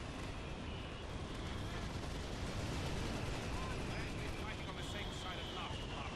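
Gunfire and explosions in the Battalion Wars 2 video game, a dense, steady, noisy barrage that runs without pause at a low level, with little separation between individual shots.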